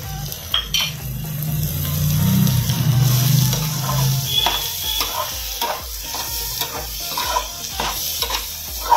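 Coriander leaves being stirred into egg bhurji frying in a pan, a steady scraping of the spoon over a continuous sizzle with occasional utensil clinks, close and fairly loud, no talking.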